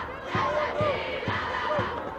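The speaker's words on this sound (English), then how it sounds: "The crowd really getting into this in the last few minutes." Spectators at a ladies' senior A schools final in Ulster roar and chant in a sustained, rhythmic swell, with a steady pulsing thump running beneath the crowd noise.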